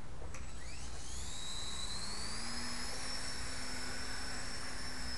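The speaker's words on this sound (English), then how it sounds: "That's full speed and the tail's spinning with about 40 the end pitch." RC helicopter with a 4G6 3-axis gyro running at full speed, a steady high-pitched motor whine with a rising tone and constant buzzing hum throughout, close and loud.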